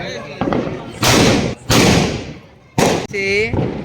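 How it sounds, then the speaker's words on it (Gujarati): Firecrackers set off by children at a Hanuman temple gathering: several loud sharp bursts with sizzling crackle between them, near and strong, with voices briefly heard among the bangs. "અહીંયા જો બધા છોકરા ફટાકડા ફોડે"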